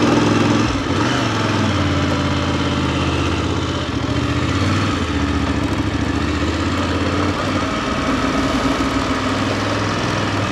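A VOGE motorcycle engine drones steadily and close throughout a ride, a dense continuous rumble with wind noise and no clear gear changes.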